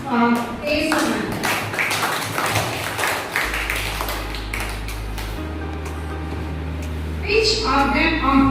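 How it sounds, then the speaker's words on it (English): Children in a quiz program clap their hands together in quick, close bursts of applause, with voices and a steady low electronic tone underneath. "Clap your hands for Kesavan."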